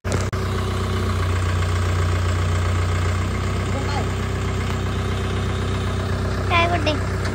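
A new tractor's engine idles steadily and close by, a constant low rumble that carries through the whole stretch, with a brief voice near the end.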